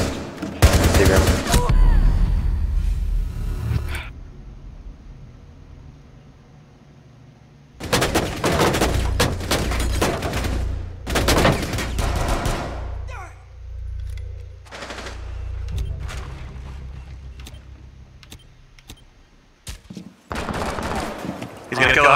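Bursts of rapid automatic gunfire in the tactical shooter Rainbow Six Siege, loud and close, arrive in several clusters separated by quieter stretches with occasional talk and game noise.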